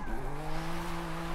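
A BMW M4 Competition drifts in a Forza game as the handbrake throws it sideways, tires squealing in a sustained screech over a steady engine tone in one short, loud burst.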